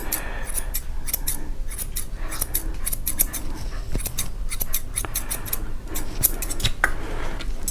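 Grooming scissors snip steadily around an apricot poodle's head, a rapid run of close, crisp metallic clicks with a faint background hum and no talking.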